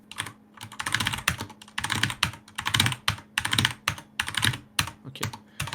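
Fast typing on a computer keyboard, heard close and alone: bursts of rapid keystrokes separated by short pauses.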